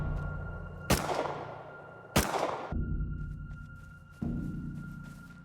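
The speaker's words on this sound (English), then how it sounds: "You hear gunfights happening all around you." Gunfire from a Rust gunfight, with three sharp loud shots spaced about a second apart, each trailing into a decaying rumble over a steady low hum.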